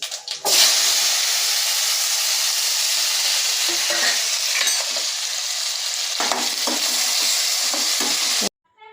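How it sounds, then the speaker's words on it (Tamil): Mustard seeds, fennel, onion and tomato sizzle loudly in hot oil while being stirred, a continuous close frying hiss with scraping stir sounds, cut off abruptly near the end. "இந்த எண்ணெய் காஞ்சோடனே பார்த்திங்க அப்படின்னா கொஞ்சம் கடுகு சோம்பு இதெல்லாம் வந்து ஆட் பண்ணிக்கலாம் வெங்காயம் தக்காளி"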